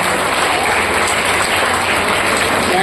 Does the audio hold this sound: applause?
yes